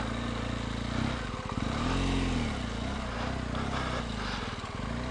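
A trail motorcycle's engine revs and idles close by on a rough trail, rising in pitch around the middle, then settling to a steady rough putter.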